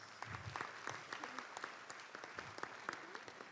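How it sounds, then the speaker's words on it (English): Audience clapping steadily after a high school spring band concert, a dense, continuous applause with scattered sharper claps, heard fairly close. "So give them a round of applause."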